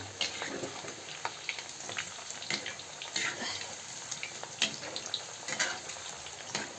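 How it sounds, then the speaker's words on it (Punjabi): Elephant foot yam (jimikand) sabzi fries in a pan with a constant close sizzle, broken by repeated scraping stir strokes at an irregular rhythm, with faint talk in the background. "ਤੁਸੀਂ ਇਸ ਤਰੀਕੇ ਨਾਲ ਆਪਾਂ ਫਰਾਈ ਕਰ ਲੈਣਾ ਇਹਨੂੰ ਸਾਰਿਆਂ ਨੂੰ"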